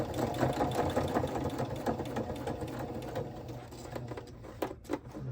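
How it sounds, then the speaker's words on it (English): A sewing machine runs in one continuous straight seam across a scrappy fabric journal base, a steady close mechanical whir that eases off near the end with a few clicks. "I just start sewing straight."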